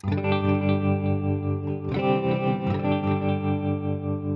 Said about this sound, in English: maybe scene 2 is a clean sound with reverb and tremolo